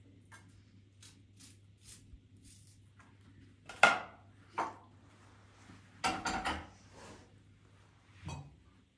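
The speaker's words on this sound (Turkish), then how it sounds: "içine kırmızı biber doğrayacağım" A few scattered knife taps on a board while chopping red pepper, with irregular clicks and a louder cluster near the end, over a steady low hum.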